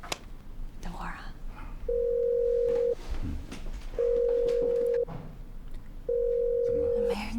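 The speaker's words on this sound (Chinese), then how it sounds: "我给你打个电话啊" During a phone call in a Chinese crime drama, three long, even ringback tones sound one after another with short pauses between them, loud and close. A faint murmur sits underneath, and no one answers.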